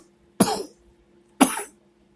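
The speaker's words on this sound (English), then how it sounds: "I don't usually cough this much." Two sharp, close coughs about a second apart, each a harsh burst that trails off quickly, with quiet between them and no talking.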